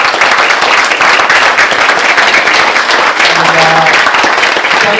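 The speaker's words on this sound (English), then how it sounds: "if you could please be upstanding and give our candidates a round of applause" Standing audience applause for political candidates at a live local election event, loud, continuous clapping filling the room with a faint sustained tone underneath, no voices standing out.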